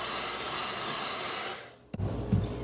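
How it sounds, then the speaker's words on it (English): A Dyson hair dryer blows a steady, loud hiss of air while drying makeup brushes, then cuts off near the end, followed by a few soft handling knocks. "I like to speed up the drying of the brushes with my Dyson hair dryer"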